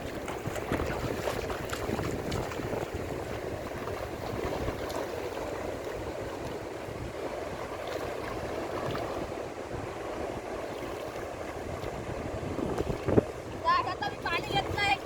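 Stream water rushes steadily while a can is filled, a continuous close wash of water noise with wind buffeting, and a few light knocks and clatters toward the end.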